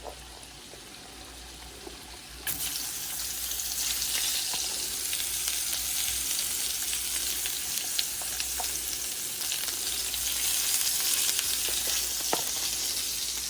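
Red potatoes and vegetables fry in oil in a pan, a steady loud sizzle that swells abruptly a few seconds in and then crackles on without a break, with no talking.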